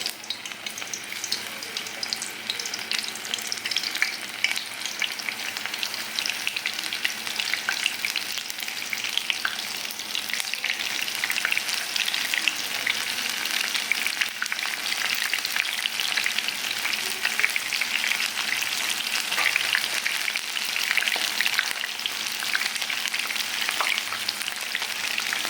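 Soaked soya chunks (meal maker) fry in oil over a medium flame for soya 65, a steady, dense bubbling crackle and hiss that runs unbroken and fairly close for the whole stretch, with no voices.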